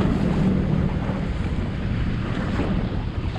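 Heavy ocean surf churns and surges around rocky ledges in a Cape Verde harbour, a steady loud wash of water mixed with strong wind buffeting the microphone throughout, with no voices.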